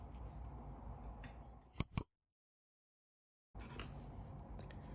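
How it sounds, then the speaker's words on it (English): Two quick, crisp snips of scissors cutting off yarn during a crochet project, close and isolated, with a few seconds of near-silence after them and then soft room noise. "you can now cut off your yarn"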